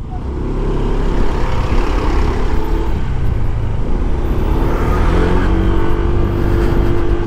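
A Honda ADV 160 scooter rides along a road, its steady engine drone and wind rush continuous and close throughout, with faint surrounding traffic.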